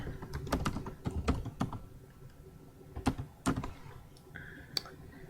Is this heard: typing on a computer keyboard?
yes